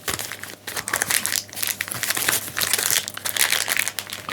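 Topps Turbo Attax foil card packs crinkle and rustle as they are shuffled and mixed by hand, a close, busy crackling with brief pauses and no talk.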